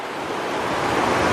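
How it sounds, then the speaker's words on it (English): A mountain creek running down a scree valley past a hunting camp in Canterbury, New Zealand, a steady loud broadband rush of flowing water, close and continuous, with no talking. "And you got this creek that runs down past camp."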